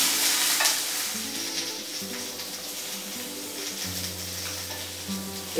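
Artichokes sizzle cut side down in a hot paella pan, a steady crackling hiss that runs throughout at moderate level, with low hum tones underneath and no talk.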